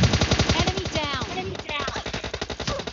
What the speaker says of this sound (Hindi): फायर कर रहा है, वहीं से फायर कर रहा है।